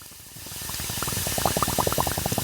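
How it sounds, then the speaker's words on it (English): Water hisses and sputters through nozzles onto algae-growing sheets at a sewage treatment setup, building into a steady rush with rapid bubbling pulses, close by and continuous, no voices. "we simply spray or drip the water through these nozzles onto these sheets"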